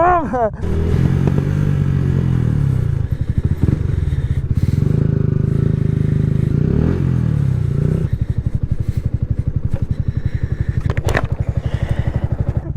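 A motorcycle rides along, its engine droning steadily and loud throughout, with clatter, wind, and people talking over it.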